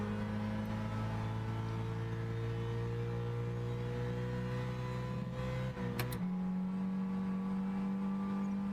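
A car engine in Gran Turismo 6 straining uphill at a steady high-revving drone, bouncing off the rev limiter before the pitch shifts abruptly, loud and continuous with no talk.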